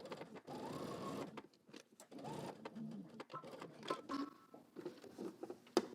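A sewing machine stitches through fabric in several short, rapid bursts of needle chatter with brief pauses between runs, close and fairly quiet.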